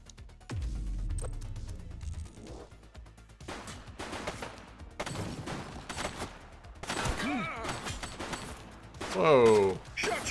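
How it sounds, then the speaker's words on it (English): Gunfire in The Precinct, a police video game, with sharp shots cracking through mixed game noise, a few rapid bursts spread across the scene, and voices speaking in between. "Shots fired!"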